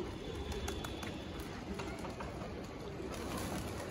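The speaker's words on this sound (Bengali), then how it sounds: "এই যে কবুতরটা হচ্ছে উঠতেছে, এই যে কবুতর হচ্ছে বাসা হারায় ফেলছে।" Pigeons on a rooftop give soft, low cooing calls that sit faintly in a steady wash of outdoor background noise, with no talk.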